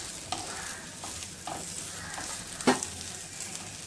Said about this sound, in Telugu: ఇలా లైట్గా ఫ్రై చేయడం వల్ల ఇందులో ఉన్నటువంటి ఒగరు తగ్గుతుంది